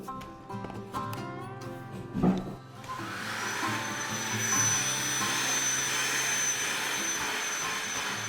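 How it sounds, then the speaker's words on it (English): A DeWalt DCV501H handheld vacuum starts after a brief thump and settles into a loud, steady whirring roar that runs continuously to the end. "Today we're looking at the DCV501H. This is a really rad little handheld vacuum."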